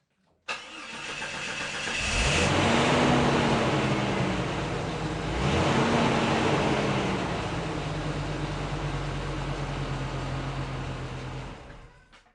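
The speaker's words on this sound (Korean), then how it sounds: "부릉부릉 저의 드럼카 소리를 듣고 싶어요" A car engine cranks and catches, then revs up and settles before a second rev climbs and eases into a steady idle, all loud and close, until it cuts off abruptly at the end with no one talking.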